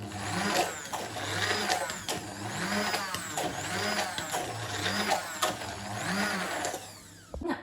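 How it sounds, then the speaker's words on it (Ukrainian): A steady motorized whir runs continuously as a blender mixes macaron batter, with a faint pulsing wobble before it cuts off near the end. "Нашу суміш я буду пробивати блендером."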